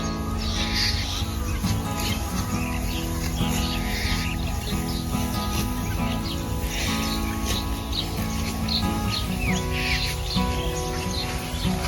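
Birds chirp and call continuously in a winter village during rice harvest season, steady and fairly loud with a constant hum of background activity and insects, no talking.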